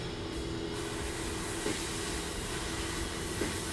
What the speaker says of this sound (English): They spray great for a minute and then all of a sudden they just stop flowing.